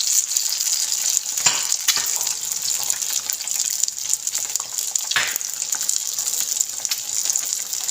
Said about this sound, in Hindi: अब मैं दोबारा इसको पलटा रही हूँ ताकि एग फ्राई हो जाए।